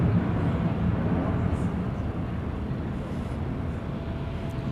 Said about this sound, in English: Bombardier Global 6000. That's why that looks so big.